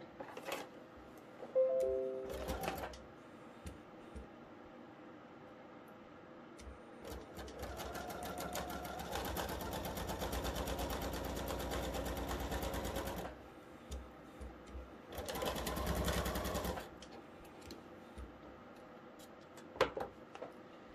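A sewing machine stitches pieces of a diamond-in-a-square quilt block in several runs of steady rapid whirring, a long burst in the middle and a shorter one after, with quiet pauses between.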